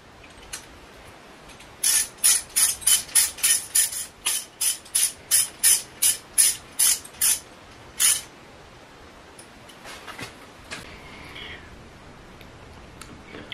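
A fixing bolt on a cam timing wheel is tightened with a ratchet, giving about fifteen quick, evenly spaced clicks close by, followed by a few softer ticks of handling.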